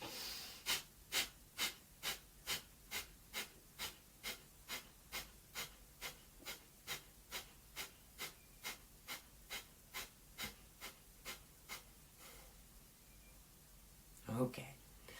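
Rhythmic forceful breathing exercise done before meditation, about twenty sharp nasal exhalations in steady succession, close and clear, ending with a longer deep breath.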